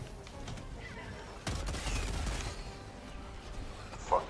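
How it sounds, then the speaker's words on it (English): Mortar fire in a video game, a single muffled boom and rumble rising over a steady background wash, with faint distant gunfire around it. "Fucking mortar."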